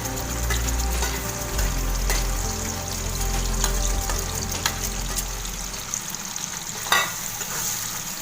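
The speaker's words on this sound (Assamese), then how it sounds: "এয়া মই এইখিনি ভাজি আছোঁ।" Spice mixture for paneer butter masala fries over medium flame in a pan, a steady close sizzle throughout that eases slightly near the end, with a single brief clink partway through and no talking.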